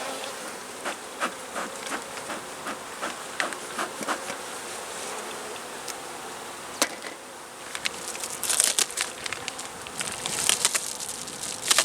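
Honey bees buzz in an opened hive box during an early spring inspection, a close, continuous swarm drone with individual bees zipping past and brief bumps, growing busier toward the end.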